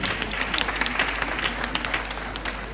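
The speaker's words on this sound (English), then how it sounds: "So let's clap for us first of all." An audience at a women's investment summit keynote claps together in a dense, sustained round of applause that stays even and fairly close for the full length.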